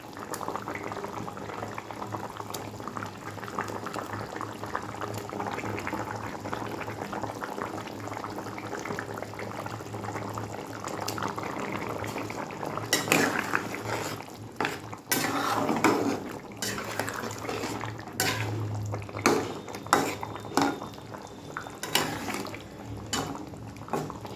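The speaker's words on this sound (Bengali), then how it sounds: "এবারে আমি মাছটা দিয়ে দেবো।" Fish going into a cooking pan with a little ginger-garlic paste gives a steady, close bubbling sizzle, then sharper clatters and bursts of spitting toward the end, with no talk.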